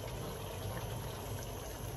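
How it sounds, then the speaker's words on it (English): Scallions simmering in a pot of stew fish and okra, a steady low bubbling hiss that stays even and close throughout with no voices over it. "just let the scallions simmer down from the heat"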